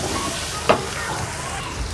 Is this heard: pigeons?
no